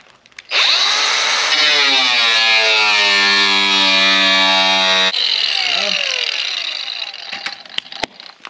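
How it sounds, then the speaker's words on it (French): Power tool in use while stripping and modifying a vehicle, running loud and close with a rising whine that spins up over about five seconds, then cuts off, followed by a quieter trailing rattle and a few sharp clicks. "Tournevis."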